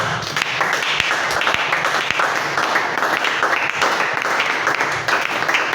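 A church congregation bursts into sustained applause and clapping, dense and steady throughout, with faint voices mixed in under the claps.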